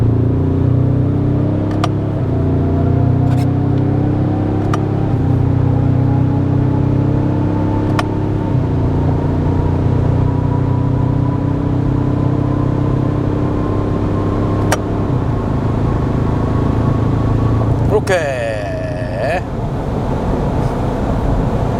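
A 2023 Ford Ranger Raptor in sport terrain mode and 2H accelerates at full throttle down a straight, its engine tone climbing steadily through several upshifts. A brief whoosh follows near the end, with no talk.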